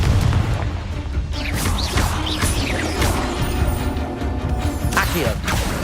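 Confringo explosive spell cast in Hogwarts Legacy, a loud burst followed by crashing, rumbling blasts and clattering debris in a busy, dense game mix.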